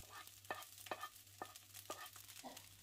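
Fried rice being tossed in a hot pan for restaurant-style Vietnamese shaking beef rice: a soft, steady sizzle runs under repeated scraping strokes of a spatula, about five evenly spaced, fairly faint and close.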